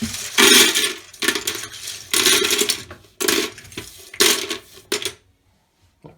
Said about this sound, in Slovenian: Ko smo odstranili vse tipke od tipkovnice, jih nato damo v neko posodo